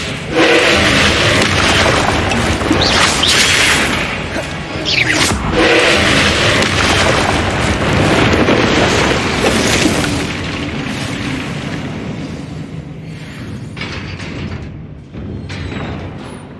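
Confringo fire-spell explosions in the Hogwarts Legacy video game: a string of heavy booms and rumbling blasts with crackling debris, loud and sustained, easing off toward the end.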